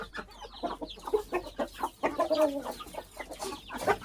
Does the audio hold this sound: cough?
no